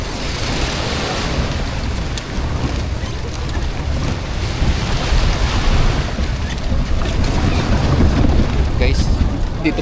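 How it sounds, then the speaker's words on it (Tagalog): Ocean waves and surf at Boracay beach on a cloudy day, a steady loud wash of water with wind buffeting the microphone, voices faintly mixed in. "dito palang maalon na"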